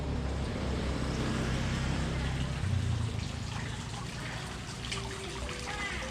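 Fountain water at a bed and breakfast in Legian, Kuta, trickling and splashing continuously under a broad rushing wash, with faint background activity throughout.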